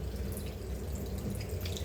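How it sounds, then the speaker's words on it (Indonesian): Hands are rinsed under running water from a tap, a steady close splashing and trickling stream that fills the whole moment without any voices. "cuci tangan yang bersih menggunakan keran air mengalir seperti ini"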